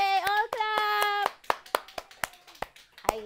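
Kids and adults at a children's show cheer briefly in voice, then a group breaks into a run of sharp, separate hand claps, fairly close and irregularly spaced.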